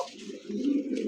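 A female Arabian Cocka pigeon, a shy and frightened bird, gives a low, soft cooing that swells over about a second, close by and alone with no talk.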